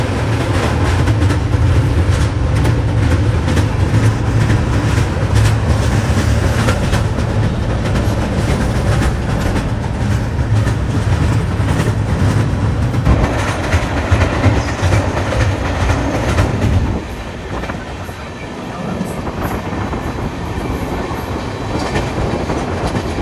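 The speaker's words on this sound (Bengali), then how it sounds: "আমাদের ট্রেন ঢুকলো তার রুটের সর্বপ্রথম স্টপেজ" Coalfield Express passenger train rolling into Kumardubi station, a loud rumbling run of rail clatter and wheel noise that eases off toward the end as the train slows, with no voices.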